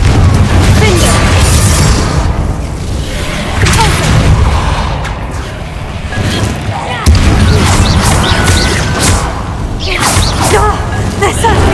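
Blasting spells cast in Hogwarts Legacy set off loud booming explosions with whooshing bursts and crackling debris, several heavy blasts over about twelve seconds, with a voice calling out between them.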